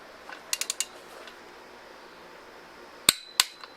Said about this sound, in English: We're going to torque it down to 40 foot-pounds, 80 foot-pounds, then 125 foot-pounds